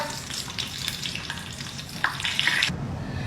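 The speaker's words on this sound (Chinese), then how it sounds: "现场炸一个大豆虫" Soybean hornworm larvae deep frying in bubbling oil, a steady close-up sizzle with small pops, ending in a brief louder burst of crackling.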